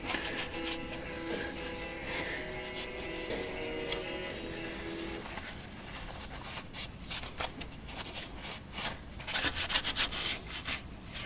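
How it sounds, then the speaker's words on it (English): Shop towel rubbing grease off an engine part from a G-body Cutlass during timing chain work, a close, steady scrubbing friction that grows busier and more scratchy in the second half. "Just wipe all the fucking grease off of it, man"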